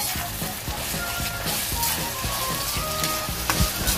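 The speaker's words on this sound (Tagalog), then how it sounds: "Kailangan isasangkot siya nating maigi to para andito yung malasang giniling." Ground meat giniling sautéing in a pan with bay leaves, a loud continuous sizzle and frying crackle with rhythmic stirring scrapes of a utensil against the pan, close by and without talk.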